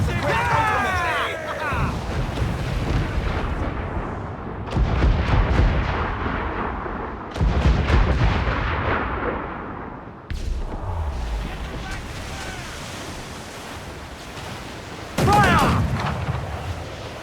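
Ship cannons firing at towers in the Assassin's Creed IV pirate game, a string of heavy booming volleys with long rumbling tails, separated by pauses and mixed with shouted voices.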